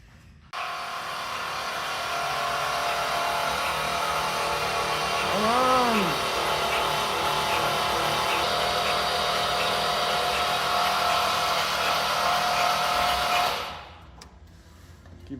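Jaguar E-Type engine turning over on its starter motor for oil pressure, a steady, loud whirring drone held for about thirteen seconds before it cuts off abruptly.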